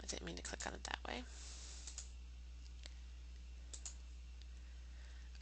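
Sharp computer mouse clicks, a quick cluster of them near the start followed by a few sparse single clicks, close and crisp over quiet room hiss while someone edits images in a web page table.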